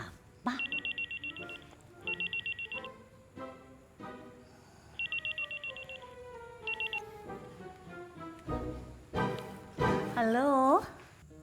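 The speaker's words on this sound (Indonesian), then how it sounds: "Telepon siapa?" A telephone rings in repeated electronic bursts, several short trilling rings spaced apart, followed by a louder jumble of voices and music-like tones at the end; people talk briefly.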